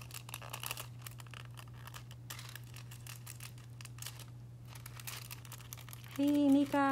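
Chameleon nail foil is handled and applied with soft, faint crinkling close up over a steady low hum, and a person speaks briefly at the end.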